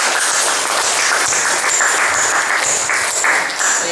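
A church congregation claps in a loud, sustained round of applause, dense and close, holding steady for several seconds without voices.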